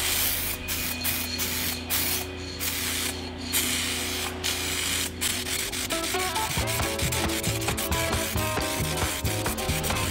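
A spray can of varnish coats a car hood at home in a run of short and longer hissing bursts, close and steady, with the hiss continuing under a faint rubbing texture and no talking.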